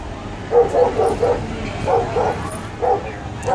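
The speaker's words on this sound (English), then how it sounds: "You can hear the dogs." Dogs bark in repeated bursts of two to four yips, moderately close, against a steady outdoor background noise, with a pause between groups, heard during a tense street scene.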